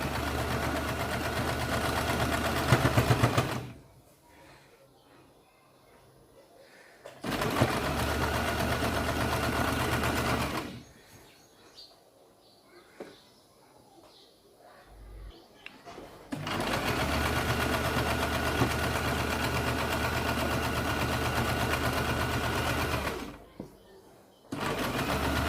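Sewing machine stitching a seam on fabric for newborn baby pants, steady loud whir in three long runs separated by quiet gaps where someone speaks softly.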